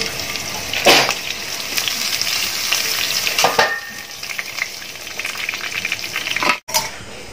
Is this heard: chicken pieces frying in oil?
yes